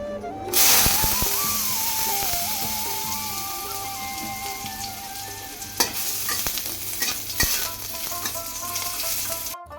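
Chutney cooks in a pan with ginger and garlic paste, giving a steady close sizzle. Scraping stirs of a spoon come and go, and a few sharper knocks fall near the end.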